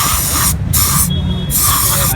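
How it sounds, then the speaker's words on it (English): Spray cleaner hisses into the EFI throttle body of a Royal Enfield Continental GT motorcycle during a service: three loud, close bursts with short pauses between them. "So now we are using the spray in the EFI."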